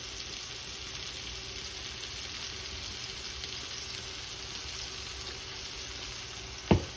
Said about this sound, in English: there was hot grease splattering onto my hands the entire time that I did that